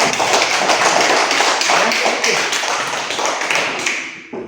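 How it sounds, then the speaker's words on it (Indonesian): Children in a classroom clap their hands together, a brisk, close burst of rapid, overlapping claps that runs steadily before tapering off near the end. "tepuk tangan untuk lainnya"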